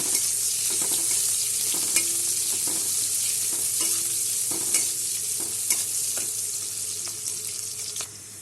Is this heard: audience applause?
no